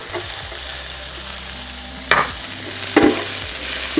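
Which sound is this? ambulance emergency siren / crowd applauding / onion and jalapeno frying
onion and jalapeno frying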